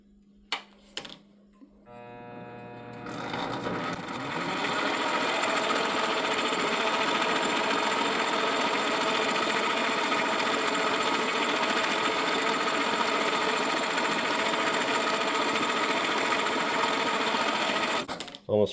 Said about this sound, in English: You might have noticed that my lathe kind of growls when it runs.